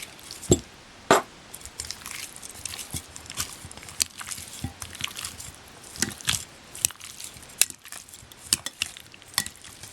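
Chicken being stirred and mixed with garlic powder, probably in a bowl: a steady run of close, wet clicks and scrapes, with a few sharper knocks at the start and no talk.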